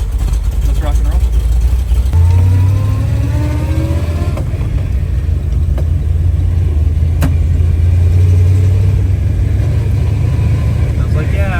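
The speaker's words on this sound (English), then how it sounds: "let's take this for a test drive" A Jeep CJ5 fitted with a Ford V8 runs steadily on a test drive, its loud low engine drone rising in pitch as it accelerates, with people talking over the constant rumble.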